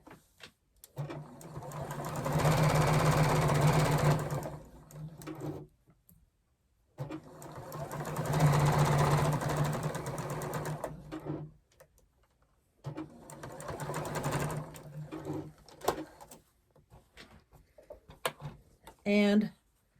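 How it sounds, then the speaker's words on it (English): A sewing machine stitching quilt pieces for a Christmas tree skirt runs in three steady, humming bursts of a few seconds each, close and loud, with quiet handling noises between runs. "Let me take this to the machine, sew it up."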